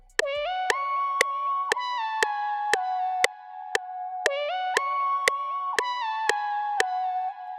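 Dry trap beat melody with no effects, a bright plucked synth repeating a short descending pattern of sharp, evenly spaced notes, close and clear with no voice over it.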